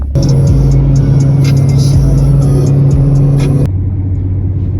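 A Ford Mustang fitted with an SVE differential cover drives along with a loud, steady engine drone and low rumble that cuts off abruptly near the end, leaving a quieter hum.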